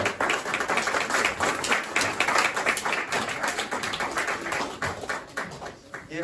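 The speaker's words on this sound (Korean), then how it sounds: "우리 모실 때 큰 박수로 환영하겠습니다." An audience at a lecture on nuclear weapons claps to welcome the speaker, with close, crisp individual claps forming a lively, uneven patter that thins slightly toward the end.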